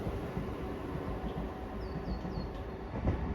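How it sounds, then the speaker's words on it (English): A Class 378 train arriving at a London station, a steady low rumble of rolling wheels and motors with faint high squeals from the rails, moderately distant and even. "And arriving in now we have a 378 bound for Dalston Junction from Clapham Junction."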